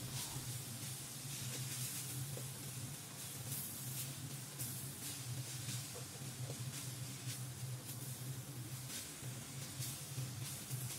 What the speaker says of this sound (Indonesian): Aduk hingga tercampur merata sambil dimasak ya